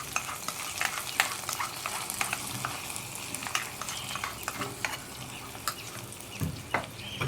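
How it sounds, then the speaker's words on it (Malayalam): A spoon stirs freshly fried tempering into a homestyle green tomato curry, giving steady scraping and clinking strokes against the pot over a soft sizzle, close and continuous with no talking. "നന്നായിട്ടൊന്ന് ഇളക്കി മിക്സ് ചെയ്യുക."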